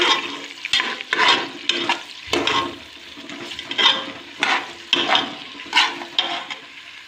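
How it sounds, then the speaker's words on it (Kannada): Onion and garlic fry in a pan for upma, with repeated surges of sizzling and scraping as the mixture is stirred at a fairly quick, uneven rhythm. "ಇವು ಚೆನ್ನಾಗಿ ಫ್ರೈ ಆಗಬೇಕು"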